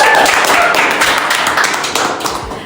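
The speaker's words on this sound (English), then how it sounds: "Round of applause, everybody." A small audience claps briefly at the start of a B&G Radio podcast episode, with close, scattered hand claps fading over a few seconds.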